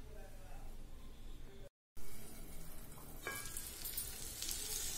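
Ivy gourd pieces frying in oil in a pan, a soft continuous sizzle that breaks off briefly and then returns a little brighter and louder. No one speaks.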